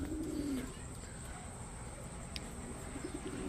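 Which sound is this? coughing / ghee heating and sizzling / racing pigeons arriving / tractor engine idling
racing pigeons arriving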